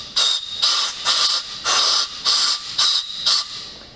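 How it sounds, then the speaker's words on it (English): Compressed air blasts down into an engine bay bolt hole on a Mk6 VW Golf GTI during serpentine belt tensioner replacement, clearing out dust and debris: seven close, loud, hissing bursts in steady rhythm, each under half a second. "I like to take a little bit of compressed air and just blow it down in that hole and get some dust and debris out of there"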